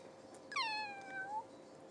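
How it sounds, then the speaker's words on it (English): A cat gives a single clear, drawn-out meow with a rising then slowly falling pitch, close and distinct over a quiet background with no talk. "Too many meow sounds"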